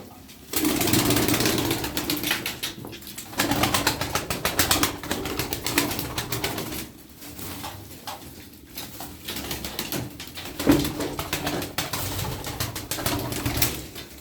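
Tumbler pigeons coo and flap their wings in rapid bursts, fairly close, with a steady low murmur of cooing underneath and occasional louder wing clatter.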